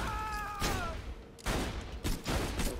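Several pistol shots in Borderlands 2 crack out in short bursts, broken by brief gaps, with a few tonal game effects near the start; the shots come close and fairly loud.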